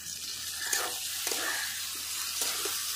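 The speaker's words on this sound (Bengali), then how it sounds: "এবার এক থেকে দেড় মিনিট আমি এইভাবে কষিয়ে নেবো।" Ginger, green chili and garlic pastes fry in a pan as a fairly quiet, steady sizzle with a few soft stirring scrapes, no voices over it.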